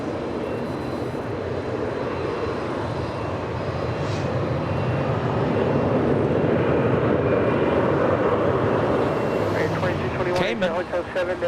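A Starlux airliner slowing down on the runway at LAX gives off a steady, loud, broad jet roar that holds for the whole stretch and swells slightly in the middle before easing off.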